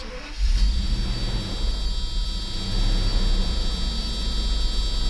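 A Mercedes S600 coupe mid-repair, with breather pipes blocked off on the throttle bodies and a weak battery, starts up and settles into a steady, loud engine run held close by for several seconds.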